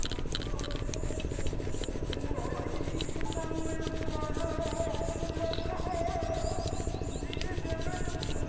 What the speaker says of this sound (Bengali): এবার আমি শঙ্খটা পরিষ্কার করে নেব। প্রথমে আমি একবার আলতো করে এইভাবে ঘষে নেব।